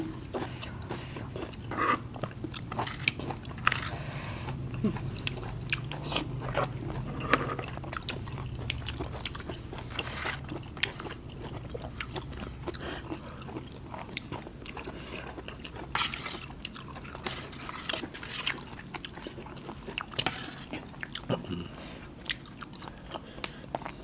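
Fresh vegetables are bitten and chewed close to the microphone, with repeated crisp crunches and wet chewing sounds in an uneven rhythm, fairly quiet and with no talking.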